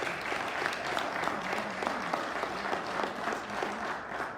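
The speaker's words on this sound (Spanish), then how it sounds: "Dese un aplauso a usted mismo, mi hermano." A church congregation at a Pentecostal service claps steadily and evenly for several seconds, a close, full wash of hands with no break.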